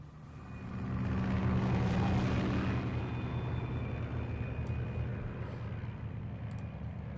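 Aircraft flying in the Metal Gear Solid 3 video game, a low steady engine drone with a rushing swell in the first seconds, then a constant quieter rumble.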